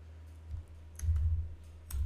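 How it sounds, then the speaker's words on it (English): A computer mouse button clicks on a save button, a few sharp close clicks over a quiet room hum. "So I'll be clicking on the save"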